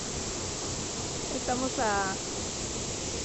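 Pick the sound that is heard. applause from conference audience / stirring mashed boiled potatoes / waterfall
waterfall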